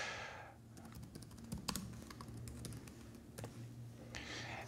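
Soft keystrokes patter on a computer keyboard in a quiet room, a short run of light, uneven taps with a couple of brief pauses.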